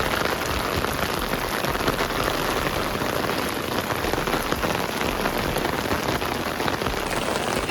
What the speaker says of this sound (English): I actually really appreciate this rain because it really gives that stormy, gothic Halloween vibe